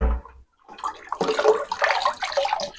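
Water pours and gushes out of a full tank, a dense continuous rushing and splashing after a short pause, close and fairly loud with no talk over it.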